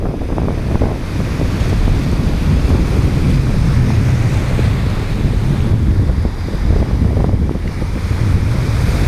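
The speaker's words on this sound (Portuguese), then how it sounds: "é um lugar até um pouco perigoso, porque vem onda de tudo quanto é lado" Sea waves and surf crash continuously where the São Francisco river meets the ocean at its delta, a loud, steady roar of rushing water with heavy wind buffeting the microphone throughout.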